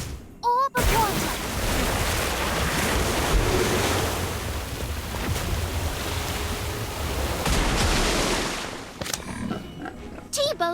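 A water orb spell in a Harry Potter story-mode video game gives a long rushing, wave-like whoosh that fills several seconds and stays loud before cutting off into game effects.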